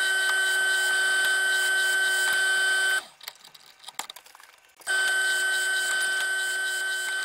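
A steel knife tang being cut on a machine, taking off big rings of steel shavings; a sharp steady tonal whine with mechanical ringing, then a short break of clicks and taps before the whine resumes.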